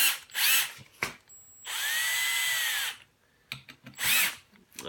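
Cordless power gun driving the throttle body bolts on a 1984 Corvette Crossfire fuel injection unit, set to 35 inch-pounds: several loud, close whirring bursts of a few seconds each, with short pauses between them.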